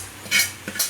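Okra and egg stir-fry sautéing in a pan, with two short bursts of hissing sizzle and a scrape of stirring, close and fairly loud against a low hum.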